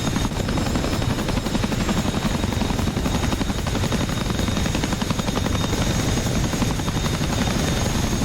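Military helicopters landing in the DCS combat flight game, a loud, steady rotor and turbine roar with rhythmic blade chop throughout, no voices over it.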